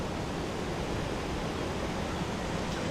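Water pours at the Ouzoud waterfalls in Morocco, a steady broad rushing roar that holds evenly and fills the whole scene without any voices.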